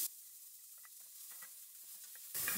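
Chopped onion fries in a pan with garlic, a faint, soft sizzle with scattered light crackles and pops, close and quiet, no voices, before a louder burst of noise at the very end.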